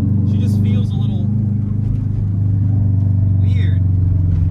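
A Subaru Bugeye WRX with a swapped 2.5 engine drives along, its loud, steady low engine drone and road rumble filling the cabin throughout, with brief voices over it.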